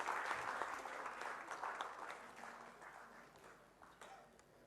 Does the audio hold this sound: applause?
yes